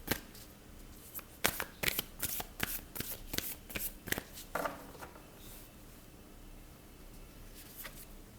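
Tarot cards are shuffled by hand in a quick series of sharp riffling snaps, about a dozen close, crisp bursts in rhythm, then a few softer taps as the deck settles.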